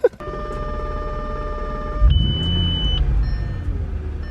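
A V10 car engine's starter cranks with a short burst of whirring, then the engine catches into a loud, deep, steady rumble, with electronic beeps and tones from the car running alongside.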